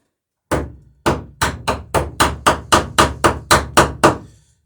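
Copper rivets being hammered on a dinghy under construction: about twelve sharp, ringing metallic strikes in a steady rhythm, close and loud, with no talking.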